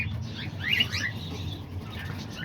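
Mixed aviary of lovebirds, cockatiels, parakeets and diamond doves with quails, giving off scattered chirps and tweets over a steady low background hum, moderately close.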